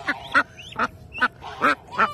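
A mother duck quacking close by in a series of six loud, nasal quacks at a steady uneven rhythm, with a few faint higher peeps between them.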